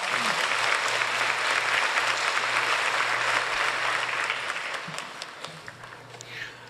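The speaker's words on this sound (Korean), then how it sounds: "격려의 박수 부탁합니다" A Korean church congregation at Hosanna Church claps in encouragement for a visiting pastor. The thick, sustained applause fills the room at an even level, then thins and tapers off toward the end into a few scattered claps.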